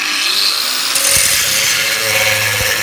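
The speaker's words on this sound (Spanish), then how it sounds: "vamos a cortar tres pletinas de 10 centímetros. Venga, vamos. Nos ponemos protecciones y a cortar." Power tool cutting short steel flat bars to 10 cm lengths, a continuous loud harsh grinding whine with sharp metallic clanks at the bar.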